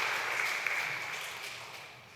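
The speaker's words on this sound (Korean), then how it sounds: "일어서 주시면 저희가 환영의 박수 한번 치겠습니다" A church congregation claps to welcome visiting newcomers during a Sunday service, a steady wash of applause that holds evenly and tapers slightly toward the end, with no voices over it.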